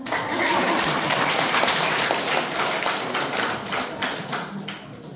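An audience at a church evangelism seminar on joint care applauds in a dense, steady wash of clapping that lasts about five seconds and fades slightly at the end.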